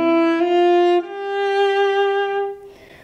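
Solo cello plays a short melodic phrase from a song, sustained bowed notes with a clear pitch change about a second in, close and alone, fading out near the end.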